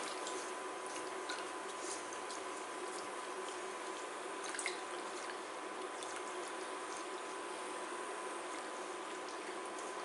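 Liquid left to boil in a pan during Pasteis de Nata preparation, a steady low bubbling and simmering hiss that runs evenly throughout, fairly quiet, with small drips and clicks and no talking.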